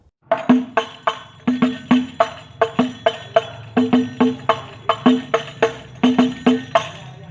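Banjari habsy frame drums playing the basic pattern, key 2: a steady repeating groove of deep resonant strokes and sharp slaps, close and loud with no voices.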